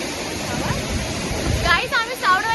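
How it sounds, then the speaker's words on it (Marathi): Rushing water at Savadav waterfall makes a steady broadband roar through the whole stretch, with nearby voices talking over it toward the end. "गाईस आम्ही सावडवाच्या धबधब्यात इलाय."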